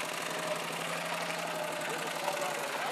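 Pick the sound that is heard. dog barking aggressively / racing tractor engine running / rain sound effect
racing tractor engine running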